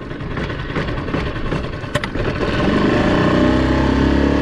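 A Tohatsu SailPro outboard motor prone to cutting out runs close by with a rough, uneven idle, gives a brief sharp click midway, then picks up into a louder, steadier drone with no voices over it.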